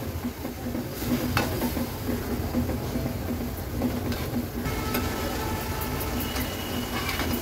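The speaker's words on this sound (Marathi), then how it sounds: "आता ह्याच्यात पाणी ऍड करणार आहोत। व्यवस्थित मिक्स करून घेते" Steady stirring in a pan of simmering gravy with added water, a soft continuous scraping and bubbling texture with a faint voice in the background.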